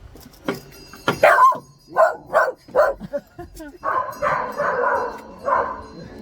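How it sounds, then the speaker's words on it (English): Dog barking after a rope is pulled: a series of close, loud barks and yips in an uneven run, followed by a longer stretch of whining, higher-pitched vocalizing. "You want to in make Ruby bark? Pull that rope"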